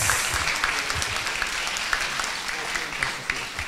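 An audience at a talk on legal and ethical perspectives of social media gives the guest speaker a warm, steady round of applause, dense clapping with a few louder individual claps, under a faint voice.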